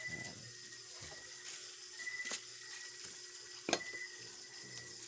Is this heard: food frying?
yes